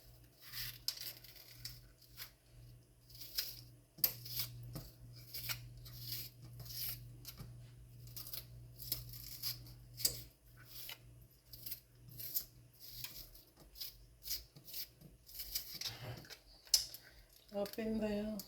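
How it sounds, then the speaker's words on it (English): A knife chopping a small onion on a board in a home kitchen: a long series of crisp, irregular close taps and clicks, sometimes in quick runs, with a low steady background hum. "I'm gonna cut up a little bit of onion"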